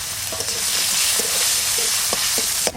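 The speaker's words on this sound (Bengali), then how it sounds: "এবার এই আলু কাটা ওর মধ্যে ভেজে নেবো।" Cut potatoes frying in hot oil in a pan used for fish, a steady broadband sizzle with a few brief stirring knocks, close and continuous, no voices.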